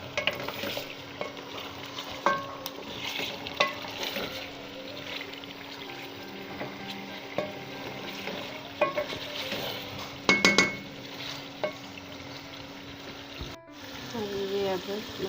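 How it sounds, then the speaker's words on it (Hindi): A paste of fried onion, tomato and yogurt sizzles in a pot for chicken qorma, a low steady frying hiss with intermittent spoon scrapes and clinks, plus a few louder knocks. "फ्राइड अनियन, टमाटर और योगर्ट, इन तीनों चीज़ों को इसमें अब मैं ऐड कर दूँगी। अभी कुछ देर अच्छी तरह फ्राई करूँगी।"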